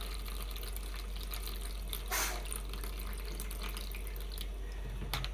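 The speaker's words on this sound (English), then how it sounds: "I'll discard this water." Water pours and splashes steadily while soaked garri is rinsed and the water is drained off, a continuous close running-water sound with a brief louder gush.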